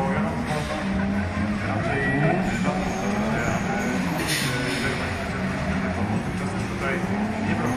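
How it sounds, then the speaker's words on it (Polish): Cars drift at the Verva Street 2011 street racing event, engines revving and tires squealing in drawn-out, wavering howls, heard at moderate distance beneath a commentator talking throughout. "ścigają się swoimi samochodami"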